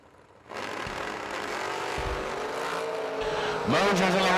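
A Mosier Engineering drag racing roadster with a 509 engine launches from near silence into a loud, rising roar, its revs climbing and surging sharply near the end, with faint track chatter in the background.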